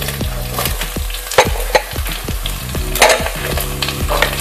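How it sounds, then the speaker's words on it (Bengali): Eggplant, carrot, capsicum, drumstick and tomato for sambar stirred in a pot, with a close, continuous sizzle and regular scraping strokes of a utensil. "সমস্ত সবজিগুলো আমি জাস্ট দু মিনিট নেড়ে সিদ্ধ করতে দিয়ে দেব"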